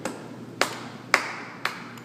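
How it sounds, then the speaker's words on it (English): Sharp, evenly spaced claps mark a rhythm in a music lesson, four distinct hand claps about half a second apart in a quiet room. "I'm gonna do 1 and you're gonna clap this. So let's clap this together."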